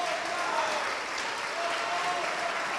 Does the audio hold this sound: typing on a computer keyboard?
no